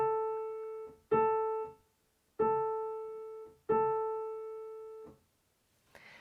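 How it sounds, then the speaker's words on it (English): Piano playing a simple beginner sight-reading rhythm: four sustained notes or chords struck at even intervals, each ringing and fading before the next, with a short pause before the last falls away. "if you just play it on the piano,"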